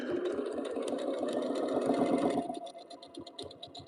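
A sewing machine quilting a quilt runs steadily and loudly for about two and a half seconds, then drops into a lighter, stuttering run of short stitch bursts as the quilt is repositioned.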